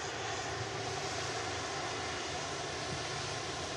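A Virgin Atlantic Airbus A380 taxis at an airport, its engines giving a steady, broad roar that holds at even volume throughout, heard from a distance.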